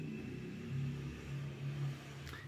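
A motorcycle passes in the street outside on a Sunday night, a steady mid-distance engine rumble that swells and eases slightly without any voices.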